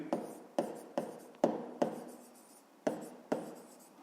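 Pen strokes on paper while working out a fifth-grade maths exercise, seven short scratchy bursts in an irregular rhythm, close and quiet with no talking.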